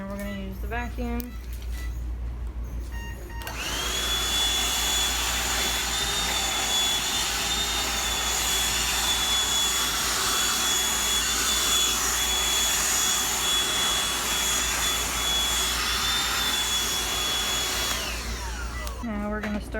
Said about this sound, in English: And we're gonna use the vacuum.